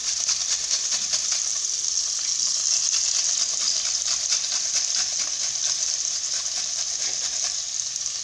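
Onion frying in a pan for a chicken dish, a steady, bright sizzle that holds evenly and close throughout with no talking.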